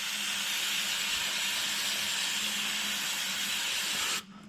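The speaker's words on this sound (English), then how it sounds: "we'll just give it a quick hit with the degreaser" Degreaser sprays in a continuous close hiss onto a wire-gauze oil catch can filter from a Mitsubishi Triton, steady for about four seconds before stopping abruptly.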